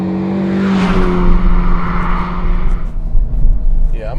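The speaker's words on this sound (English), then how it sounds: "they revised the exhaust and it flows a little better and it's a little louder" A 2023 Honda Civic Type R with a revised, freer-flowing exhaust revs loudly and close by, its engine tone rising and then falling away, with no talk over it.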